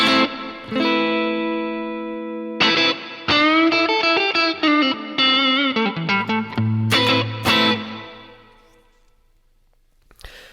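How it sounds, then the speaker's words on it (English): Electric guitar with overdrive through Specular Tempest reverb on a Zoom multi-effects pedal, a sustained chord and a run of picked notes ringing alone, with lingering washy tails that fade into near silence at the end. "I have some reverb here on the Specular Tempest"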